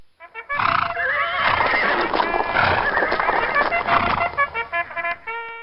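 Horses whinny loudly over a steady clatter of hooves, the calls sustained and layered before breaking into short, separate neighs near the end.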